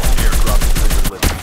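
Rapid automatic gunfire in the mobile shooter game Call of Duty Mobile, a loud, close burst of evenly spaced shots that breaks off briefly near the end and then resumes.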